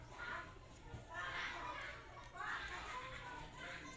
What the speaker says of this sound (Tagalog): Hindi mo hindi mo pwedeng sabihan yung mga bata na huwag mag-ingay.